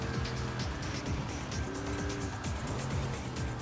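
Car engine in Forza Horizon 5 droning steadily at moderate volume, with shifting harmonic whine and faint tire noise throughout, no talking.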